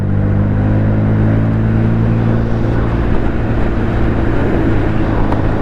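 A modified Bajaj Pulsar N160 motorcycle rides along steadily, its engine drone low and continuous under heavy wind rush, loud and close throughout.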